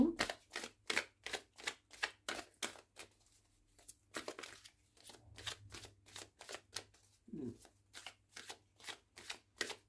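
Doreen Virtue oracle cards shuffled close up in a run of quick, crisp riffling bursts, with a brief pause midway before the rhythmic flicking resumes; no talking.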